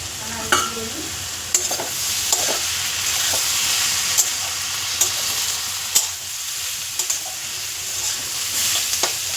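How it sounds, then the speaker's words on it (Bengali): Food browning in hot oil in a covered pan makes a loud, steady sizzling hiss, with scattered sharp clicks and taps of utensils or the lid. "এরকম ঢাকনা দিয়ে চাপা দিয়ে দিয়ে আমি একটু ব্রাউন কালার করে ভেজে নেব"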